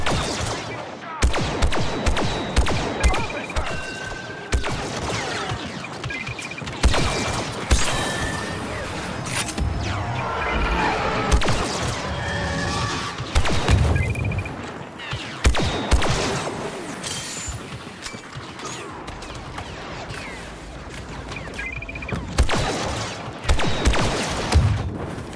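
Blaster fire rattles through a Star Wars Battlefront 2 battle on Jakku, dense bursts of repeated shots with crashes and explosions, loud and continuous across the scene.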